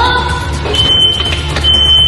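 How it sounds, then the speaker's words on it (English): A fire alarm sounds loudly indoors with a steady high electronic tone, broken by brief gaps, and a faint voice underneath. "That's the fire alarm sound."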